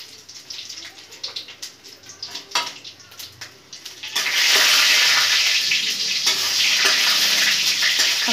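Bay leaf, dried chili and panch phoron frying in a wok for a Bengali-style mixed vegetable sabzi: light clatter at first, then a loud, steady sizzle that fills the second half.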